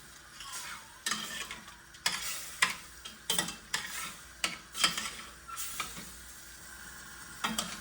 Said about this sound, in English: stir it all in, get it nice and incorporated